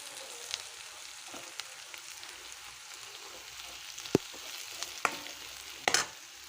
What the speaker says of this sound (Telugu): ఇప్పుడు వీటిని అంతా బాగా కలిపేసుకుందాము.